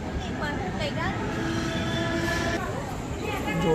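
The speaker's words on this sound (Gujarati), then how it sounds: "આવી ગઈ છે ભાઈ ટ્રેન" A train coming to a halt at a station: a continuous heavy rumble with thin, high brake squeals drifting over it, swelling slightly louder at the end.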